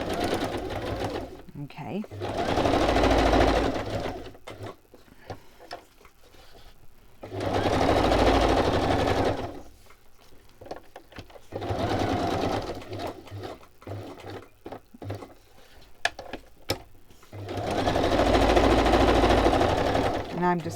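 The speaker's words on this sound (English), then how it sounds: "And it helps to turn on the sewing machine." A sewing machine runs a straight stitch to attach a pocket, in four long bursts with quiet pauses between, loud and close. A person says a word in a gap.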